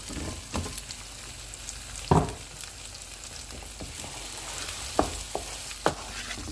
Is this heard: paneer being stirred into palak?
yes